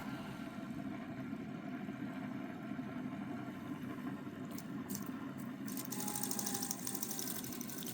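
Homemade pulse motor with a small fan mounted as a load on its rotor, spinning with a steady, continuous buzzing whir that stays at an even level throughout, with faint high-pitched ticking joining in toward the end.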